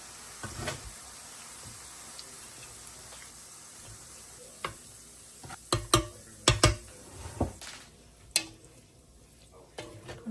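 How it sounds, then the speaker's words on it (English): Boiled potatoes are drained with a slotted spoon and dropped into a very big pot, heard as a run of sharp metallic clinks and scrapes, some louder knocks mid-way, close by over a quiet kitchen background. "With my slotted spoon, I'm going to drain these potatoes and then put them in here."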